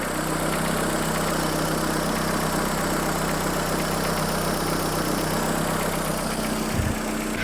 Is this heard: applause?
no